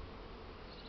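Honeybees swarming around their hives on a warm spring day, a dense continuous buzzing drone of many wings, faint and steady with no voices.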